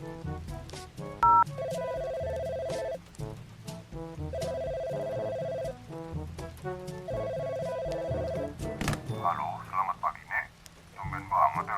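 A telephone call goes out: quick dialing tones, then a repeated electronic ring in three evenly spaced bursts over a low background, ending in brighter, busier noise as the line connects.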